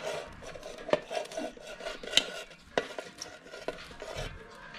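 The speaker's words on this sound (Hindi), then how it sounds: "ये मुरमुरे हम मिक्स कर रहे हैं" Jhal muri is being stirred and tossed: puffed rice mixed with chopped onion, green chili, coriander and tomato in a bowl. It makes close, continuous scraping and rustling with a few sharper clinks from the spoon.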